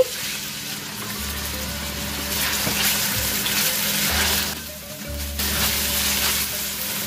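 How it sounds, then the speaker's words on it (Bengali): Chopped onions frying in about a third of a cup of cooking oil in a pan, giving a loud, steady sizzle with a low hum underneath. "এখন আমি 1/3 কাপ কুকিং অয়েল দিয়ে দিচ্ছি। অ্যাড করে দিচ্ছি পেঁয়াজ কুচি,"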